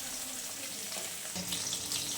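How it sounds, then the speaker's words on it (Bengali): Parshe fish frying in hot oil until crisp, giving a steady loud sizzle that flares up brighter partway through as the pieces crackle in the pan. "একটু কড়া করে পার্শে মাছগুলো কিন্তু ভেজে নেবো বন্ধুরা।"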